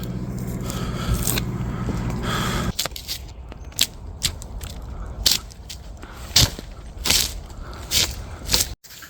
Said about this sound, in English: I can get my hands underneath some of that and I can peel it off in sheets